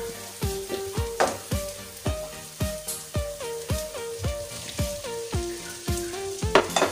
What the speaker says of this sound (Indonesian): ayo langsung aja yuk kita masukin ati amplaknya